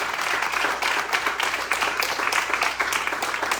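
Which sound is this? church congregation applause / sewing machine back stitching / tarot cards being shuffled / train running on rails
church congregation applause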